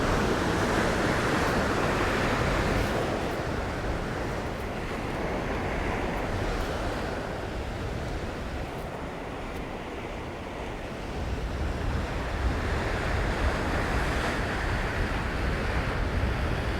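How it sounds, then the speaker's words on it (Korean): Ocean waves surging against a rocky shoreline at a Sydney rock fishing spot, with gusty wind buffeting the microphone; a continuous loud roar of surf and wind that swells and eases, with no voices. "지금 보시다시피 파도도 강해지고 바람도 조금씩 세게 불기 때문에"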